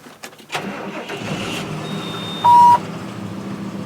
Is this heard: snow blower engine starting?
yes